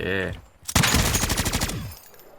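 Ray Gun firing in Call of Duty zombies mode: a rapid burst of close, loud shots for about a second, preceded by a brief voice, then fading into quiet.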